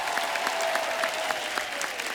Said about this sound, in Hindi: जोरदार तालियां शबीर साहब के लिए